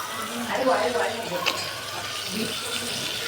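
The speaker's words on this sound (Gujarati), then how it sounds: "વરસાદ આવ્યો છે ગાઈસ" A heavy downpour in Surat makes a dense, continuous hiss that fills the whole moment, with a person's voice talking over it.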